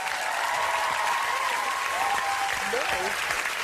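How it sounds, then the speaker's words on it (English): A television studio audience at a live talent-show broadcast applauds the judges, a steady dense wash of clapping and cheering that fills the whole moment at close range, with a presenter's voice carrying over it. "Round of applause for our judges."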